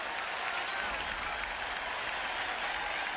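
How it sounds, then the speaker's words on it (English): Big crowd at a Fenway Park matinee baseball game, standing and cheering for the final out: a steady, dense roar of cheering and applause, sustained and fairly distant. "the crowd, this big crowd, for this matinee at Fenway, standing in anticipation of the final out"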